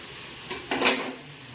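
A spoon scrapes and clatters against a pan as broad beans and onions are stirred together, two short quiet scrapes over a faint background hiss.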